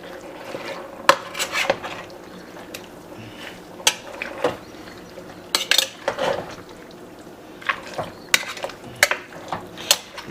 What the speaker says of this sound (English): I'm just gonna give it a little stir.